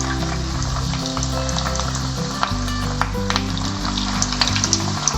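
Vadas deep-frying in a batch of hot oil make a loud, continuous bubbling sizzle with a dense crackle, close and steady throughout, with a few sharper pops near the end and no talking.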